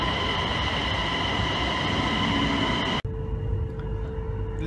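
Steady low rumble and hum inside a first-class cabin of a Chinese high-speed train running between Xiaolan and Tianhe, loud and continuous, with a brief dropout and the tone turning quieter and thinner partway through.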